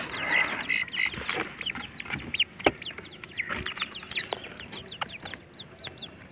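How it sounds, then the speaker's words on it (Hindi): Young desi wild francolin partridge chicks, hatched in an incubator and now let outdoors, give a continuous series of thin, high peeping calls, fairly close and overlapping, with no talk. "ये देसी जंगली तीतर के बच्चे हैं और इंक्यूबेटर में निकले हुए हैं घर में"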